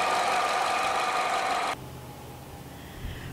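A 2016 Nissan Altima's 2.5-liter four-cylinder engine runs under the hood, a loud steady hum and whir for most of the clip that drops suddenly to a quieter low idle rumble near the end.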